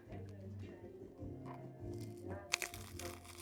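A bite into the crunchy bread of a shrimp po' boy sandwich gives one sharp, close crunch near the end, following a stretch of low murmuring voices and background noise.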